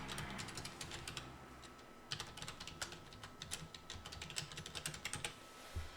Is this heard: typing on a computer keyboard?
yes